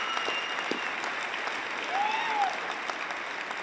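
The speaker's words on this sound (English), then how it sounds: "Let's give you all a round of applause for that." An audience at a high school equivalency graduation ceremony applauds steadily, a dense wash of clapping from a crowd, with a faint whistle rising partway through.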